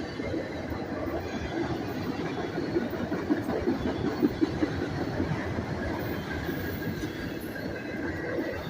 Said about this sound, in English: this is a big train here